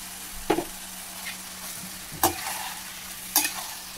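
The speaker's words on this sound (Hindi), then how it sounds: "इसको अच्छे से मिक्स करेंगे" Sabudana (sago) with cumin is stirred in a hot pan, a low steady sizzle of frying broken by three scraping stirs of the spoon, close by with no talk.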